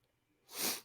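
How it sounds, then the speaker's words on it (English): A single short, breathy nasal sniff rising out of near silence, close and brief. "Sorry about all the sniffles."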